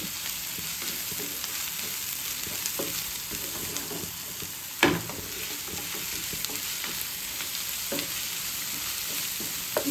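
Sliced onions fry in a pan for a boti fry dish, a steady close sizzle broken by intermittent stirring scrapes and one sharper clank of the utensil midway, with no talking.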